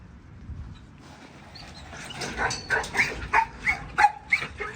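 Dogs at a dog training yard bark in a quick series of yips and barks, starting faint and growing louder and closer, with about eight sharp barks in the second half.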